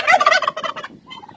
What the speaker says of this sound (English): Now that's some happy turkeys.